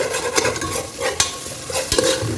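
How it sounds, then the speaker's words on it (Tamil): Cinnamon, clove and cardamom frying in oil for Ambur mutton biryani, a busy sizzle broken by sharp stirring scrapes and clatters of a spoon against the pan, close up with no voices. "இந்த பட்டை கிராம்பு ஏலக்காய் இது ரெண்டு மிக்ஸ் பண்ணி வச்சு அது கொஞ்சம் எண்ணெயில் கொஞ்சம் நல்லா வதங்கட்டும்"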